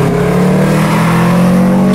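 A Subaru boxer engine revs loudly and steadily, a deep droning growl held close with a constant rumbling pitch, no voices present.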